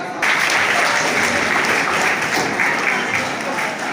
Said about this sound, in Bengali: ওনার জন্য সবাই মিলে একবার হাততালি দিন